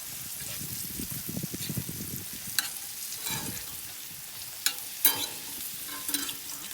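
Pieces of wild duck frying in a pan on a wood stove, with steady sizzling and crackling plus scraping and clinking as the pieces are stirred and turned, close by.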